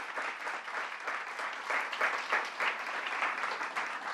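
An audience applauds at an outdoor bill-signing ceremony, with dense continuous clapping from a crowd that swells slightly midway and holds steady, no voices over it.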